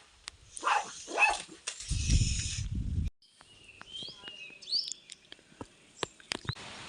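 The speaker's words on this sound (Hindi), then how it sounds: "काव काव भी कितने टाइम बाद सुनाई दे रही मुझे" Crows caw outdoors, giving several harsh, scattered calls at moderate distance, with a short noisy burst early on and other birds chirping faintly between them.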